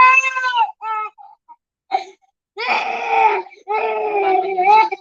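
A young child cries and sobs in loud, broken bursts with gaps between them, whimpering and wailing close by.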